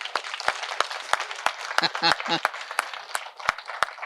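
Audience at an indoor meeting clapping, a brief burst of scattered handclaps at moderate distance, with a voice briefly heard among them.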